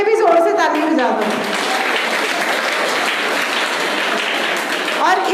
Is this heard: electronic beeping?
no